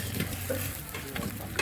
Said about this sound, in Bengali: এই এখন পেঁয়াজ ভাজা হচ্ছে,